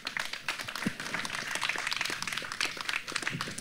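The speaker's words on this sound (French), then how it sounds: "Donc on peut applaudir bien fort, s'il vous plaît." A conference audience under a large marquee claps, a dense, lively patter of many hands filling the space evenly from start to finish, with no voices over it.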